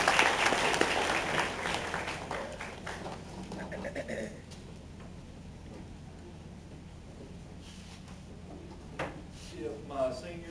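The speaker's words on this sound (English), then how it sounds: "You give these young men a round of applause." Applause from a school sports banquet audience, clapping strongest at the start and fading within a few seconds into a quieter room with scattered handling noises and a brief voice near the end.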